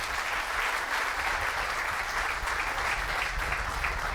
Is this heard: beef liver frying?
no